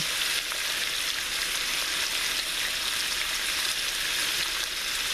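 Bacon sizzles in a hot cast iron pan for breakfast burritos, a steady, dense crackle of frying fat that holds at an even level throughout, close and alone with no talk.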